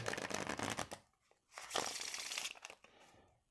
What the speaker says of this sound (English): I think they're going to riffle shuffle really well